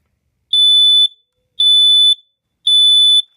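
Smoke alarm sounding three slow, evenly spaced high-pitched beeps, each lasting about half a second with silence between, loud and close.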